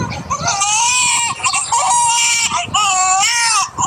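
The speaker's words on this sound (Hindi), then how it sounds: "ये बच्चे की रोने की आवाज कैसे आ रही है?" A baby cries loudly and insistently in repeated high, wavering wails with brief breaths between them, close by.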